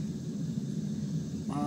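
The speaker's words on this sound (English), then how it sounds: "if you can hear the sound in the background, that's the furnace" Steady, broad roaring rumble of a metal melting furnace used for melting silver, droning continuously in the background with a brief tonal sound entering at the very end.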